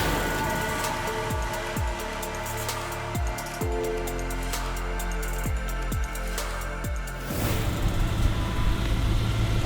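A supercharged 750 bhp Mercedes C63 driving off, its engine pulling through repeated rising revs with sharp gear changes, then a louder steady drone as speed builds, close and unaccompanied by talk.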